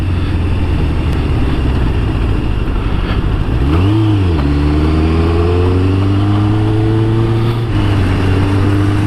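Kawasaki ZZR1100 motorcycle engine, loud and close, rising and dipping in a quick rev before pulling up smoothly through the gears while accelerating, a steady engine drone underneath.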